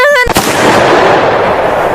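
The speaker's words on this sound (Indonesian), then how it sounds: "Tembakan pertama, Pitung masih bisa menghindarinya." After a brief tonal sound, a single loud pistol gunshot in a stage performance cracks out and leaves a long, roaring reverberation, as if in a large hall.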